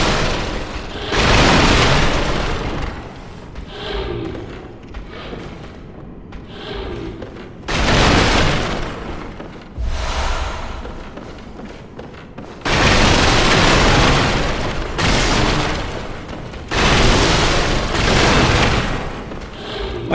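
Wooden barrels smashing under body slams in Bloodborne, with several loud, heavy crashing bursts separated by short quieter gaps.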